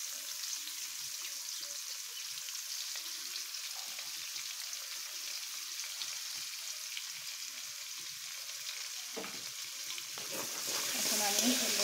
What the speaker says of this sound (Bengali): এখন আমি সুন্দর করে লাল লাল করে পেঁয়াজটা ভেজে নেব